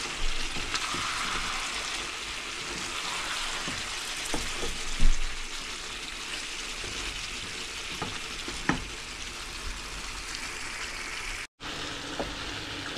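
Chicken, potatoes and beans sizzle steadily in an oily pan for a potato curry, a continuous close frying hiss broken by occasional clinks and scrapes of a stirring utensil.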